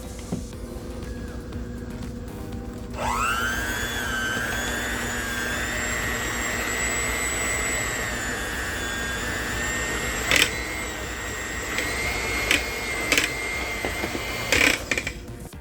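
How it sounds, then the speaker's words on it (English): A handheld electric mixer beats cream cheese in a bowl. It starts after a few seconds of quiet and settles into a loud, steady motor whine, with a few sharp clicks of the beaters knocking against the bowl near the end. "We are going to start by beating the cream cheese with a hand mixer."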